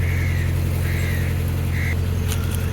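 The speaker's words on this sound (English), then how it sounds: "The unmistakable sound of corvids." Crows caw three times in the distance while cruising, harsh short calls spaced about a second apart, rising over a constant low engine rumble.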